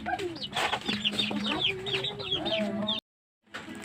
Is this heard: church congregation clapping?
no